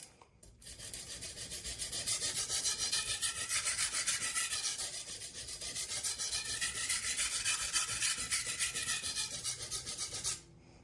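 A chef's knife blade is sharpened with a long, steady rasping stroke pattern, continuous close scraping strokes in an even rhythm lasting about ten seconds, with no voices.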